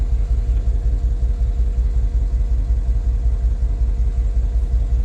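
A 2013 Mercedes G63 engine idles steadily, a close, continuous low rumble with faint regular pulsing and no voices throughout.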